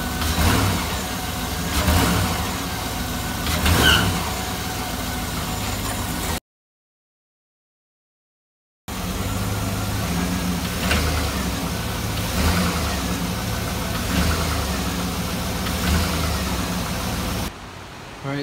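A GM truck engine with a worn motor mount revs up and drops back to idle several times, a close mid-pitched rumble with repeated throttle surges, broken by a brief gap of silence.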